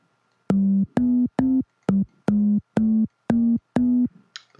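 Short sampled Kigonki tones played as a chromatic instrument, eight evenly spaced plucked-and-sustained notes at a steady pitch with a brief higher blip at the end, heard alone.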